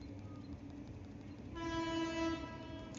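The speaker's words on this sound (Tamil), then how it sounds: "ட்ரெயின் வருது, கொஞ்சம் டிஸ்டர்பன்ஸாக இருக்குது" A train passing close by during a cricket-game commentary, its horn sounding as a loud sustained harmonic blare that swells in partway through over a steady rumbling rail noise.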